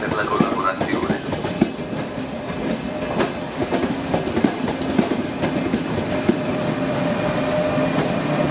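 An Intercity train moves through a railway station, a loud steady rumble with rhythmic clicks of wheels over rail joints, while an announcement plays over the station speakers.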